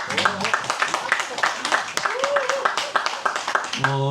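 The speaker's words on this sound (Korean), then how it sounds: "격려의 박수 한번 부탁드립니다." Encouraging applause from a lecture-concert audience for a speaker; brisk, scattered clapping runs throughout under overlapping voices, with a brief tonal sound near the end.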